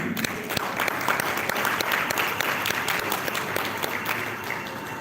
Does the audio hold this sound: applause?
yes